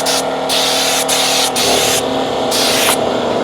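Drive Auto's Luxe Cockpit Conditioner misted inside a Kia interior, several close hissing spray bursts of roughly half a second each in an uneven rhythm over a faint background hum.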